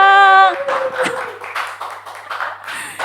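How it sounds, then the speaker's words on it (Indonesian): A small studio audience claps at an urban farming show, the sparse, uneven clapping arriving after a brief tone and continuing in scattered bursts beside talk. "Wow, tepuk tangannya dong."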